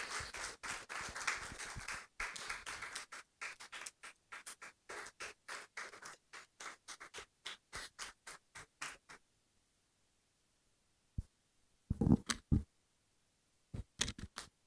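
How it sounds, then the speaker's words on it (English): Applause breaks out at a graduation demo day, a burst of claps that thins into sparse, scattered individual claps, followed by silence and a few isolated handclaps. "please give Yvonne a round of applause."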